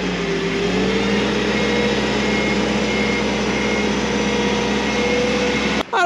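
A car engine revs steadily and loudly while the vehicle is moved into a shop, the drone holding nearly constant before cutting off abruptly near the end, with no talking.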